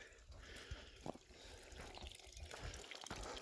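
Spring water drips and trickles on a mountain meadow, with soft irregular splashes and a faint continuous flow, quiet and close.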